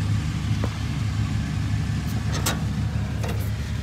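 A Farmtrac 60 Supermaxx tractor engine idles steadily with a low, even rumble, joined by a few faint clicks and brief higher sounds nearby.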